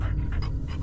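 A dog pants steadily in the horror game Fears to Fathom, quick rhythmic breaths close up over a low rumbling background, with no talking.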